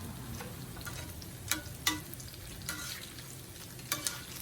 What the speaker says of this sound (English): You gotta scramble them really good.